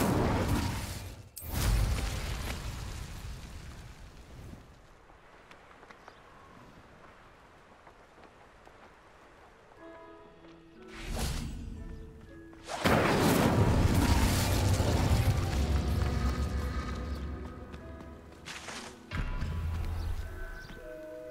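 Incendio fire spell cast in the Hogwarts Legacy video game: sharp whooshing bursts of flame, a brief crack at the start, then a longer roaring blaze, loud and close, with quieter ambient game sound between.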